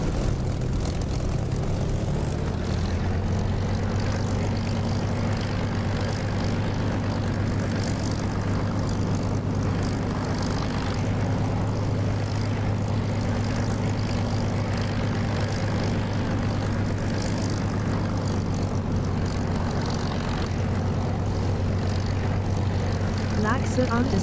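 A Spitfire's propeller engine in the DCS flight simulator drones steadily and loudly with a constant low hum throughout, while someone talks over it.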